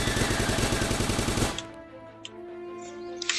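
Rapid rifle fire in the Starbound video game, a fast rhythmic burst of loud repeated shots that stops abruptly, followed by quieter game sounds and a few faint pops.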